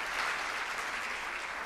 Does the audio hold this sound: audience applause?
yes